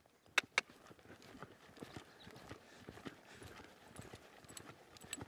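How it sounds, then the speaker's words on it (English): A horse's hooves beat out a rhythmic clip-clop during a canter departure on the right lead, with steady mid-distance footfalls after two sharp clacks at the start, quiet overall. "Let's watch this canter departure."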